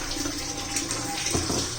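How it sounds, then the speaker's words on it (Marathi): Water pours into a pan of fenugreek and potato sabzi, a close, steady rushing splash that runs for a couple of seconds with no voices. "थोडंसं आपण पाणी घालूया"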